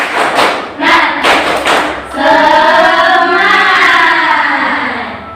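A class of students does a rhythmic 'tepuk semangat' clap routine in a classroom: a few loud, sharp group claps in a pattern, followed by a sustained group chant of voices.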